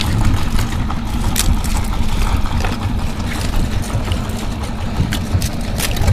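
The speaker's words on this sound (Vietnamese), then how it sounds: "bây giờ chiếc ghe của mình đã đến rồi kìa" A motorboat arriving on the open sea, its engine a steady, loud, rumbling drone with wind and water noise, close by and continuous.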